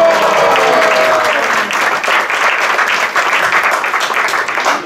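A satsang audience in Brampton breaks into loud, sustained applause honoring a family, dense clapping filling the room from start to finish.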